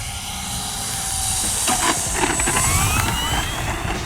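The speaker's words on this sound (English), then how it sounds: "when the propeller starts to make that mosquito wing sound is when it's starting to hover" A giant RC P-51 Mustang hovers as its propeller cavitates, a steady, loud whining buzz with a high mosquito-like drone and shifting pitch, heard without talk.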